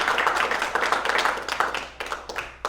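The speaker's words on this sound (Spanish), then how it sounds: "Denle un aplauso al Señor." A church congregation applauds at a service on water baptism. The clapping is lively and close at first, then thins into scattered, fading claps.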